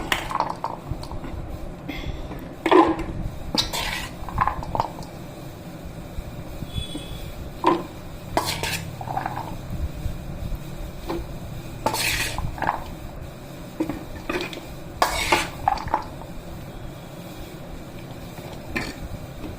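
Pickled kerda being spooned and packed into glass jars, with repeated clinks of metal on glass and scraping of pickle at close range, irregular taps spread throughout, no talk.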